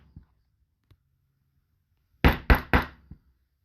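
A mallet strikes a stitching chisel driven into leather to punch stitching holes. A faint tap or two comes first, then three quick, close, sharp knocks and a softer final tap.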